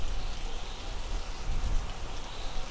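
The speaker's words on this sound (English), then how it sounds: "It's also chucking it down with rain" Heavy downpour during a sandstorm in the survival game Hurtworld, a continuous dense hiss of rain on surfaces with low rumbling, steady and fairly loud with no talking.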